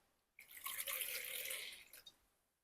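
Water poured from a measuring cup for gluten-free sourdough dough, a close splashing stream lasting about a second and a half before tapering off, alone with no talk.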